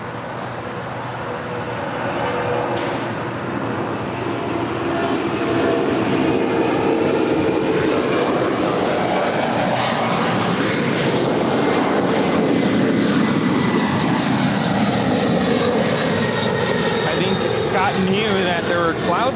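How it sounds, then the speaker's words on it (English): An MD-11 taking off at LAX in a long, building jet roar that grows louder and holds near its peak, with people talking over it. "There goes the MD-11."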